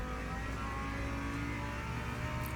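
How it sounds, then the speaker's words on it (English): Car engine in the Le Mans Ultimate racing game, a continuous droning engine note with steady, dense tonal harmonics, loud and unbroken, with no distinct pass-by swell. "There's a car."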